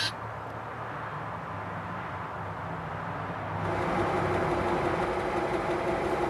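The engine of a Studebaker camper runs with a steady low rumble that swells into a louder, fuller drone partway through, close and continuous with no talk over it.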